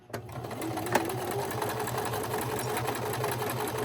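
A sewing machine runs steadily, stitching decorative swirly, wavy stitches onto a handmade cottagecore-style junk journal, a close, even mechanical whir with a rhythmic pulse that continues without pause.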